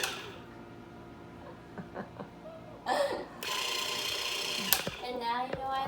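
Electric mixer whirring steadily as it beats vegan brownie batter in a home kitchen, a loud continuous motor drone that kicks in partway and runs to the end, with a brief exclamation and small clatters.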